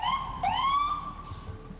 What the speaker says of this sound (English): Yes, it's an ambulance. It's driving away with the hurt people.